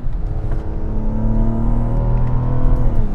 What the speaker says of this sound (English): Little blow-off noise there.